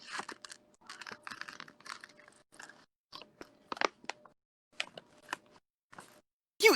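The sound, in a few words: person chewing crunchy beef jerky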